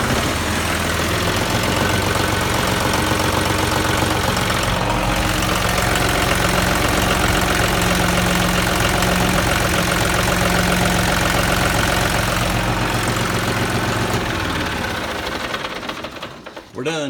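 A John Deere 5055 tractor's diesel engine idles loudly and steadily with a rough, knocking chug for most of the span, then fades out near the end.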